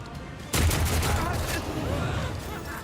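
Enemies open fire in Warhammer 40k Rogue Trader. A sudden loud burst of gunfire is followed by a sustained rattling fusillade with scattered impacts.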